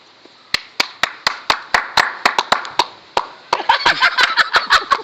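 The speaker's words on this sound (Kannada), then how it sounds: "ಚಪ್ಪಾಳೆ ಮೂಲಕ ಸ್ವಾಗತಿಸಬೇಕು." Clapping at a felicitation gathering begins as single sharp, evenly spaced claps from a few hands, then thickens into fuller, overlapping applause, close and fairly loud.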